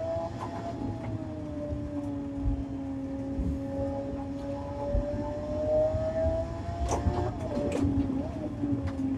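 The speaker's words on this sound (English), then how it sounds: "This car sounds magnificent too" A car engine in the racing game Assetto Corsa drones and whines steadily, pitch sliding gradually up and down, with some clatter and faint rain background noise; no clear talk.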